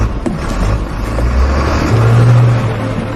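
An expedition truck's engine starting, one stretch of low rumbling and a rising rev that swells near the end, loud and close, with no voices.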